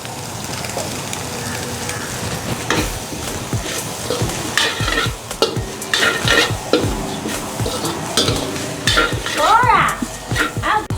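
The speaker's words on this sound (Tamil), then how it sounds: "இந்த மாதிரிக்கு முட்டையெல்லாம் வதங்கினதுக்கு பிறகு நாங்கள் கேரட் போட்டுக்கொள்வோம்." Carrots and egg stir-fried in a pan, loud busy scraping and clattering of a spatula against metal over a steady sizzle, with irregular knocks throughout.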